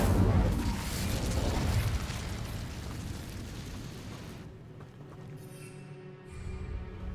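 The Incendio fire spell in Hogwarts Legacy goes off as a loud, rumbling whoosh of flame, like a burst. It fades over several seconds into a quieter crackling tail with faint mechanical clicks.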